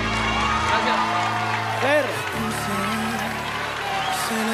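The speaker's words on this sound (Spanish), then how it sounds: "El aplauso para Fer." A studio audience on the Mexican singing contest La Academia applauds and cheers a departing contestant. The sustained crowd noise plays under music and a host's voice.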